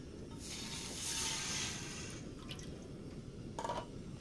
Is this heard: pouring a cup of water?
yes